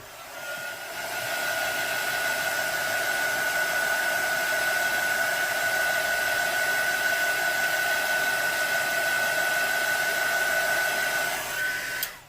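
A hair dryer runs continuously while drying a paper tag bookmark, a loud, steady blowing roar with a constant whine, close up, cutting off abruptly at the end.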